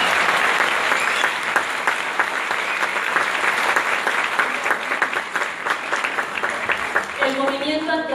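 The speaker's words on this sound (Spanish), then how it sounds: "Fuertes los aplausos para la memoria del maestro Víctor Puebla." Strong, sustained applause fills a theatre at a tribute to the late theatre teacher Víctor Puebla, many hands clapping loudly and continuously, with a voice starting to speak over the clapping near the end.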